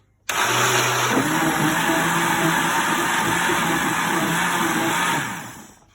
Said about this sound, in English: I've just put it in my blender and I'm just going to blitz it now